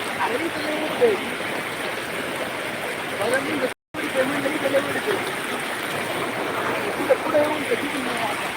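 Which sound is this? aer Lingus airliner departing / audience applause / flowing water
flowing water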